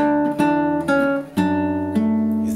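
A fingerstyle guitar picks out a short passage of a song from Toy Story 2, sustained, ringing notes with a few fresh attacks over about three seconds, no voices.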